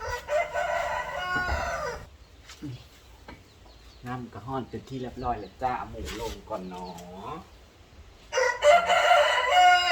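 A rooster crows loudly and close at the start and again near the end, with someone talking about cooking in between.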